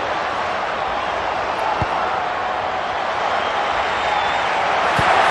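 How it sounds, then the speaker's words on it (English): A rugby league crowd in a stadium at McDonald Jones cheers a score, giving a steady, loud wash of roaring noise that swells slightly toward the end, with a few faint thuds in the mix. "Oh, crowd likes that."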